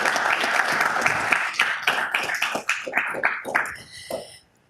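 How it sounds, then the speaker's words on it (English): Audience at a city council meeting applauding to honor police officers who died in the line of duty, a dense burst of clapping from many hands that thins into scattered claps and fades out. "If we can give them a round of applause"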